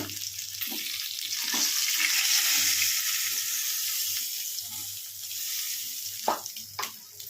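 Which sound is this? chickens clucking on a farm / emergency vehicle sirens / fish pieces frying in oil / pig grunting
fish pieces frying in oil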